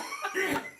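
A single short cough from an elderly grandfather, close and moderately loud, with a brief rasping burst and no speech around it.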